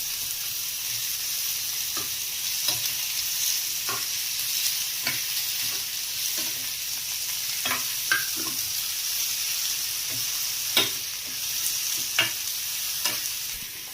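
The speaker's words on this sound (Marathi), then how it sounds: "टॅमॅटो चांगलं परतून घ्यायचं थोडं शिजू द्यायचं आहे टॅमॅटो" Chopped tomatoes sauté in a pan with a constant soft sizzle, while a spatula scrapes and taps the pan every second or two, close and clear.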